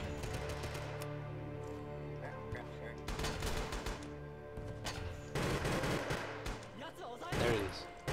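Bursts of gunfire in the World War II shooter game Rising Storm, several rapid volleys separated by short lulls, moderately loud over a steady background hum, with someone talking briefly.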